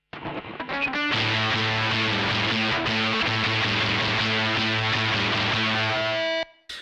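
Electric guitar through an Abracadabra pedal stacked into a Drive Master overdrive, giving a thick, saturated tone; a short picked lead-in gives way to loud sustained chords that ring steadily for about five seconds, then stop.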